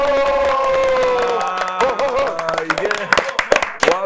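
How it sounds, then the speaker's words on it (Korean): A crowd at a lively outdoor market-day broadcast event claps and cheers in welcome. A sustained mass of shouting voices gives way to scattered, uneven bursts of clapping and whoops. "큰 박수로 환영해 주세요."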